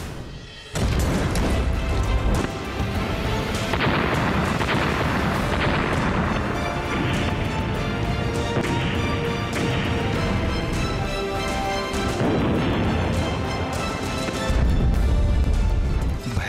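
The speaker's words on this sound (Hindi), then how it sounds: "भयंकर बमबारी और गोलाबारी से दहल रहा लेबनान।" Bombing and shelling strike Lebanon, a loud continuous roar of explosions and blasts with heavy low rumble throughout, punctuated by sharper bursts near the start and end.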